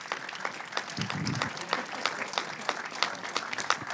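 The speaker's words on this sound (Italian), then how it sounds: "Facciamo un altro grande applauso" Audience applause fills an awards ceremony for sports portrait photography, a steady wash of many hands clapping at moderate volume, continuous and dense for the whole stretch.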